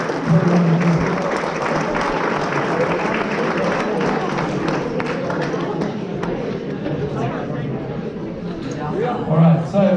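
Audience at a youth soccer school's celebration evening applauds the Year 7 program, a dense steady wash of clapping and crowd noise lasting throughout, with voices mixed in underneath.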